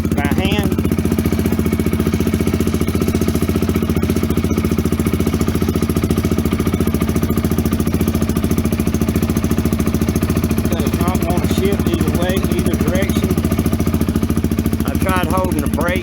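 A Coleman 250UTV with a shifting fault runs with its rear wheels lifted off the ground, giving a continuous low, even engine drone throughout, with faint chirps breaking through near the end.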